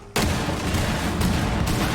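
The Fuze cluster charge fires in Rainbow Six Siege as a dense, continuous string of loud rapid blasts that starts abruptly and holds at full volume to the end.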